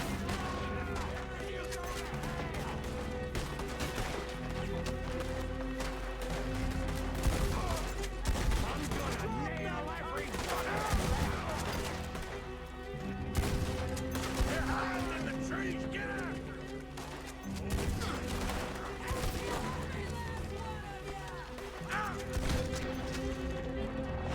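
Gunfire in the video game Red Dead Redemption 2, with a shotgun and a Gatling gun in play, sounds as repeated shots and bursts over a continuous game soundscape and music, with people talking.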